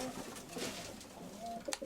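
Soft, low cooing of male pigeons murmurs through a quiet room, with a brief sharper sound near the end.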